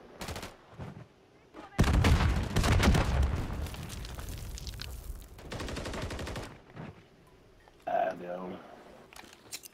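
Gunfire in a shooter video game: rapid automatic bursts, loud and dense for several seconds, then a shorter burst later, with players talking over the shooting.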